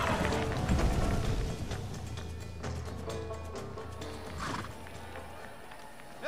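A horse neighs amid galloping hoofbeats and busy background noise in the video game Red Dead Redemption, with a voice talking faintly underneath.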